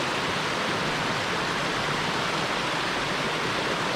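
A creek at Oconee Camp, a gold prospecting site in South Carolina, rushes in a constant, close, even wash of flowing water.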